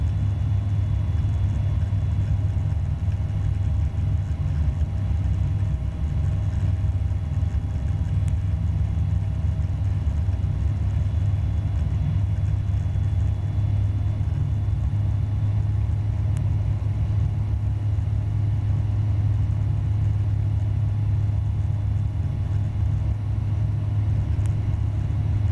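A light aircraft engine at Edenvale Aerodrome, throttled up to about 5,000 rpm during an introductory flight lesson, drones loud and steady throughout with a deep, constant rumble and no voices.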